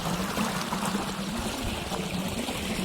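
Irrigation water gushing steadily from a newly started pump in a farm field, a continuous close pouring rush with no talk.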